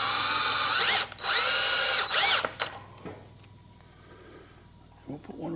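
A power drill drives screws into a wooden board while a garden sprinkler timer is mounted, giving two loud whirring bursts with a short gap between, then a brief whir and quiet handling clatter.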